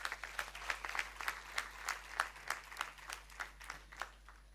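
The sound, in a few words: audience applause at graduation ceremony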